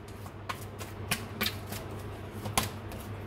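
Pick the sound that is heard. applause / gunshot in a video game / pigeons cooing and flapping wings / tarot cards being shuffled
tarot cards being shuffled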